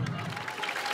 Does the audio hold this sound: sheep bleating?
no